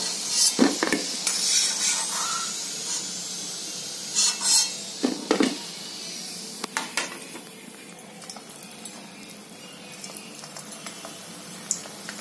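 Steamed bajra flour dumplings are lifted from a pot onto a plate with metal utensils, giving a few clinks and scrapes early on that thin to quiet occasional taps.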